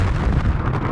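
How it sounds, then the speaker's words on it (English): A rusty, leaky giant tank holding 2.3 million gallons of molasses explodes, heard as a loud, dense, low rumbling blast that fills the whole short moment. "the tank explodes."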